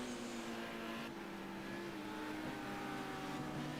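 A BMW touring car racing at Oulton Park during a touring car championship round gives a steady, sustained engine drone with a slowly shifting pitch, heard from a distance without any talk.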